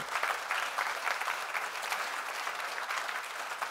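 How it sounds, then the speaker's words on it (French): An audience at a retail business conference applauds steadily, a dense patter of many hands clapping at a distance for several seconds without pause. "on vous applaudit"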